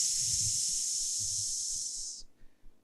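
A human voice imitates a snake's hiss with one long, loud, sustained hiss lasting about two seconds before cutting off, followed by faint breathing.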